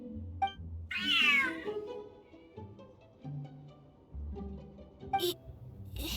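A cat in the Genshin Impact video game gives one clear, drawn-out meow followed by a shorter call, over soft game music.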